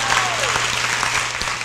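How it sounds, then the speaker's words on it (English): A crowd at a women's equity anniversary celebration gives a round of applause, dense clapping close and loud, with a faint voice and a brief sliding tone over it. "Give her a round of applause"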